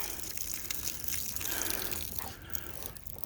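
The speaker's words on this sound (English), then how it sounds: "let's get some water on these things" Water pours steadily from a watering source onto potted strawberry plants, a continuous close splashing gush with soft trickling as the soil soaks it up.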